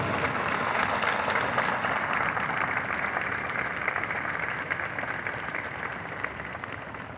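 An audience at a police cadet graduation ceremony gives sustained applause, a steady wash of many hands clapping with no break, moderately distant.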